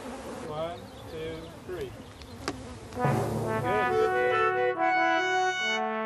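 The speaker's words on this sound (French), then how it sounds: "Ces abeilles cache-sexe ne sont pas dangereuses." Bees drawn to a queen's pheromones buzz in a swarm, a steady insect hum under a voice early on, then growing louder and denser with strong tonal whine in the second half.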